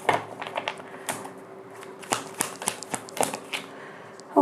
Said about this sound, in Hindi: तो चलिए इसको और शफल करते हैं।